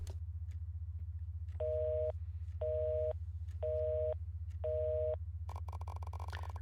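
A busy-style unreachable phone tone from a 2004 landline in the video game InSight: four evenly spaced beeps over a constant low hum, ending in a crackly burst of noise.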